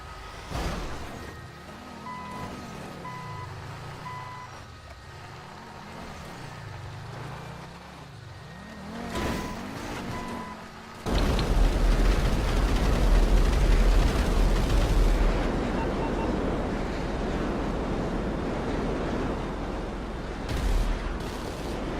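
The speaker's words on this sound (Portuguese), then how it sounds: "você podia literalmente derrubar uma turbina eólica" A wind turbine in GTA Online is knocked down: a vehicle engine hums and revs, then a sudden loud crashing rumble hits and keeps roaring steadily, with a few sharp impacts near the end.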